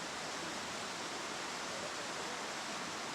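Creek water flows in a steady, even rush outdoors in the woods, a constant broadband wash with no pauses and no voices over it.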